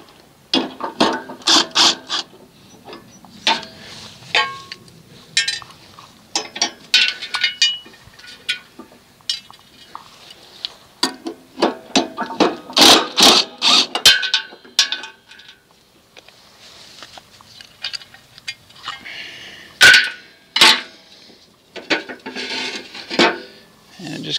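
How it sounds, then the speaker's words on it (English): A Snapper Comet RER mower stood on its back end has its blade removed, giving a close series of metallic clinks, ratcheting clicks and tool knocks in irregular bursts. "we're going to be removing this blade off of the mower"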